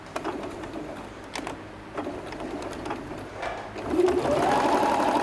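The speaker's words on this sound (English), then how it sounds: "I'll give this a quick stitch along here" A sewing machine stitches along the edge of a piece of fabric, a continuous close rattling hum of the needle that speeds up and grows louder toward the end.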